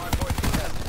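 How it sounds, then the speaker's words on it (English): Heavy melee hit in the video game Call of Duty Black Ops 4, a loud run of punchy, thudding impacts with sharp transients repeating roughly every tenth of a second, close and dense with no talk over it. "The melee in this game is so ridiculously loud and powerful"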